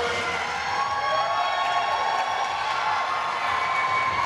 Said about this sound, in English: Come on, cheer her on, folks.